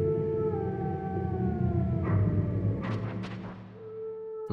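A wolf dog in the Metal Gear Solid video game lets out a long, wavering howl that swells and fades, layered over droning in-game music with no talk.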